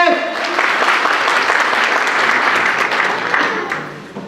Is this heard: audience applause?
yes